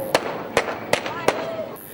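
Firecrackers at a New Year's Eve celebration go off in four sharp, evenly spaced bangs, loud and close, over a faint bed of background sound and voices.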